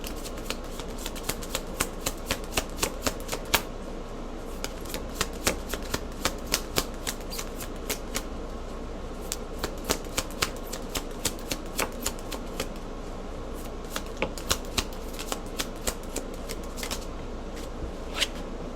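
Kipper fortune-telling cards being shuffled by hand, a long run of crisp, rapid riffling snaps and flicks repeating steadily at close range in a quiet room, with no talk.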